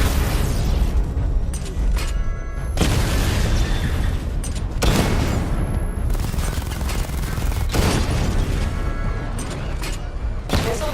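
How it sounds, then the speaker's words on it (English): Rapid loud missile barrage explosions and booming impacts from Batman: Arkham Knight, a dense continuous volley of blasts with repeated sharp bursts throughout. "Destroy targets to charge up weapon energy and activate missile barrage."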